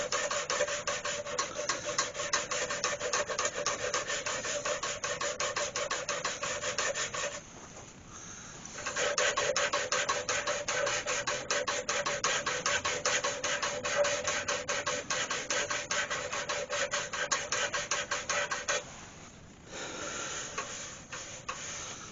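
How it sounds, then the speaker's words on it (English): Someone hand-sands a beech crotch hollow form with 108 grit sandpaper, making a steady, fast, close rubbing rasp. It breaks off briefly twice, then continues, with no voices. "So I've just got a bit of 108 grit sandpaper and just go in there and just take that edge off."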